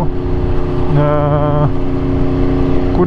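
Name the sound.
Aprilia RSV4 motorcycle engine while riding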